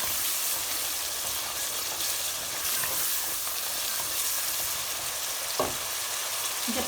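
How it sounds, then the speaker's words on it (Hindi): Masala with yogurt sizzles and fries steadily in a pan for chicken tikka biryani, a loud, close, continuous hiss with occasional stirring scrapes and one brief clink. "दही हमने शामिल कर दिया और हम इसे मिक्स करके 5 मिनट तक पकने देंगे।"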